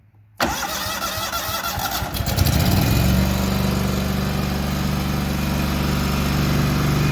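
A Walker riding mower with a carburetor backfire fault cranks briefly with a little choke applied, then its engine catches and settles into a loud, steady, fast idle close by.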